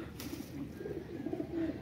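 An old high flyer pigeon, seven or eight years old, coos softly on a rooftop, a low repeated cooing that rises slightly toward the end, with no talk.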